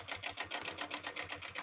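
A sewing machine bastes tote bag pieces together, stitching in a quick, even rhythmic chatter of close, steady needle strokes, alone without speech.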